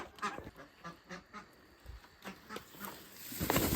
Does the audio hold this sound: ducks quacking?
yes